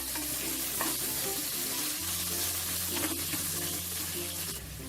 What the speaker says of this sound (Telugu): వీటిని మీడియం ఫ్లేమ్లో ఈ ఉల్లిపాయలతో పాటు బాగా మగ్గనివ్వాలి.